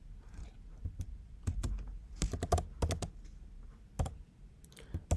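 Keys clatter on a computer keyboard in short irregular bursts of typing, close and fairly quiet, with pauses between clusters of keystrokes.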